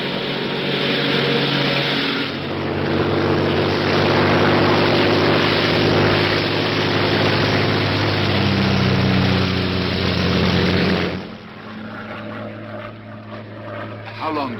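A Royal Air Force propeller plane drones steadily in flight, a loud continuous engine roar that swells after a couple of seconds and then drops away sharply near the end.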